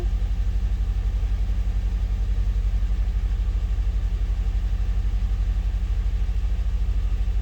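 A Chevrolet Trailblazer engine runs at a steady idle, with a loud, continuous low rumble and an even, pulsing rhythm throughout, close to the listener, and no voices.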